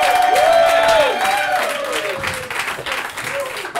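Audience at a live comedy podcast taping applauding to welcome a guest, a burst of clapping and crowd noise with a whooping voice and cheers riding over it, loudest at the start and tapering slightly.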